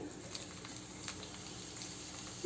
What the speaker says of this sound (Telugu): గ్రీన్ చిల్లీస్ ఫ్రై చేసుకోండి కొంచెం, ఒక 2 మినిట్స్.